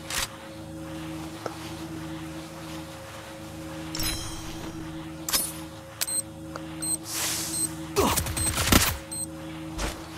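Gunfire in the Free Fire battle royale game, heard as scattered sharp shots over a steady low game hum, ending in a quick rapid burst of fire.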